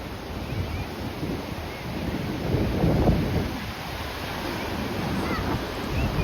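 Broad, steady rush of sea waves at Alibaug mixed with gusting wind rumble on the microphone, swelling slightly midway, with no clear voices.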